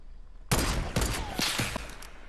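Several gunshots in Fortnite Battle Royale burst out loud and close after a short quiet stretch, spaced apart over a couple of seconds amid a dense, noisy game mix.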